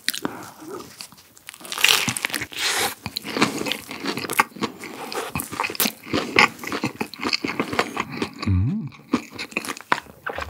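Crunchy bites and chewing of a crispy fried chicken burger with a garlicky, spicy sauce, recorded close up, with repeated crisp crackles and moist mouth sounds.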